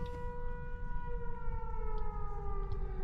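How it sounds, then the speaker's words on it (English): A civil defense tornado siren in Oklahoma wails steadily at a distance, its pitch sliding slowly downward. Nobody speaks over it. "There's a siren going."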